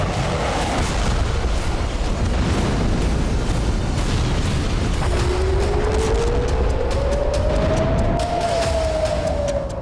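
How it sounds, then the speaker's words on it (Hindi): Heavy bombardment during an Israel–Hezbollah attack in southern Lebanon, heard as a dense, constant roar of rumbling blasts and crackling bursts, with a rising siren-like whine emerging midway through. "प्रचंड बमबारी हुई"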